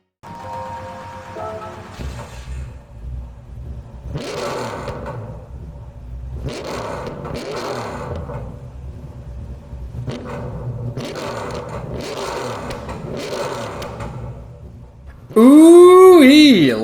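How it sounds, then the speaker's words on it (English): A deep 7-liter, 750 horsepower V8 in a Camaro Roadster Shop Rampage in Gran Turismo 7 drones and rises in repeated revving surges, ending with a sudden loud burst of sound with a rising pitch. "Listen to the sound of that 7-liter, 750 horsepower V8."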